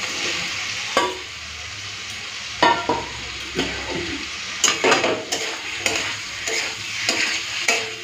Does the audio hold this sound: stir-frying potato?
yes